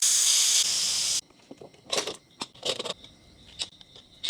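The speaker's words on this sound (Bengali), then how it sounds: "পাঁচ মিনিট পরে আমি খুলবো প্রেশার কুকার থেকে যখন খুলবেন তখন অবশ্যই এবারটার এই যে হাওয়াটা ছেড়ে নেবেন" Steam hisses loudly and steadily from a pressure cooker holding cooked hilsa fish, then stops abruptly. Softer scattered hissy bursts and clicks follow close by.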